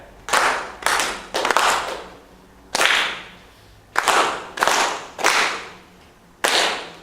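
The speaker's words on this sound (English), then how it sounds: "let's clap them out" A group claps a rhythm exercise of half and quarter notes in unison, with eight sharp bursts of clapping in an uneven pattern separated by short pauses. The clapping is loud and close, with no talking.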